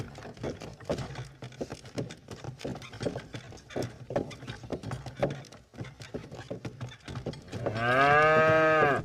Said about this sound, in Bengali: লোকটি গরু দুটোকে যেই বলল চল হাট হাট, অমনি গরুগুলো চলতে শুরু করলো।